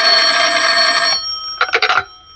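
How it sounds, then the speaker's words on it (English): An old-fashioned telephone bell rings in a 1945 detective radio drama: one long steady ring, a short pause, then a quick cluster of clipped rings, loud and close with no voices. "the phone was ringing."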